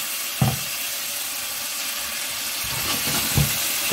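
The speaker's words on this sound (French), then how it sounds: "je vais déglacer à la sweet chili" Tofu sizzles in a pan as it is deglazed with sweet chili sauce, a steady close hiss broken by a few soft thuds and stirring scrapes.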